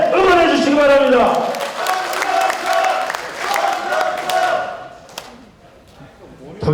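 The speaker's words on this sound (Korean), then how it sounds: "박수로서 힘차게 응원해 주시기 바랍니다." Party members at a Democratic Party rally in Jeju, a large crowd clapping and cheering loudly, the applause swelling and fading over several seconds, with shouts mixed in.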